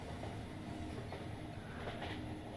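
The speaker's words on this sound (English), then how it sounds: "Kotori and I are on a train leaving for Tokyo." A train ride in the visual novel If My Heart Had Wings, heading to Tokyo early on New Year's Day: a steady rumbling rail noise with faint rhythmic wheel clicks runs continuously at moderate loudness.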